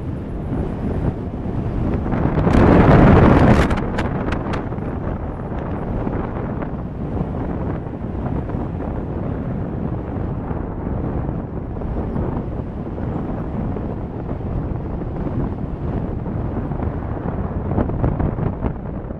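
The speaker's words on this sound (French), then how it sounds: "Je ne vais pas laisser que du bruit du vent pour vous occuper" Steady wind buffeting a microphone on a cold road trip through Central Asia, a low roaring rumble that swells loudly for a moment early on, then continues as constant blustery noise.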